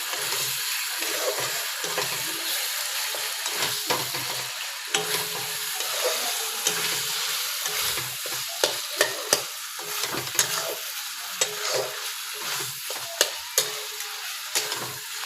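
Taro leaves being stirred and fried in a pan, a steady sizzle broken by repeated sharp scraping and knocking of the spatula against the pan, close and clear with no voices.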